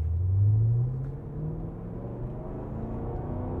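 A 2022 Cadillac CT5-V Blackwing engine revs in first gear, a deep rumble that climbs briefly at the start, then drops back to a steady, fairly quiet drone.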